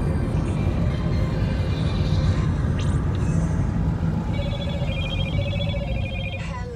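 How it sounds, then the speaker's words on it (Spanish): A phone rings for an incoming call in Mexicali. Faint, evenly spaced electronic ring tones repeat in the second half over a steady low rumble of background noise. "Me están marcando por teléfono."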